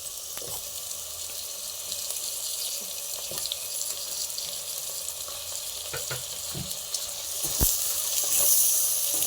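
Tomatoes fry in hot oil with ginger garlic paste for kushka rice, giving a continuous close sizzle with occasional soft clicks of stirring that swell slightly toward the end.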